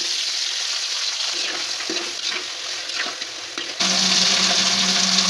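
Hilsa fish heads coated in salt and turmeric frying in hot oil give a steady, close crackling sizzle with occasional stirring scrapes, growing louder and denser near the end.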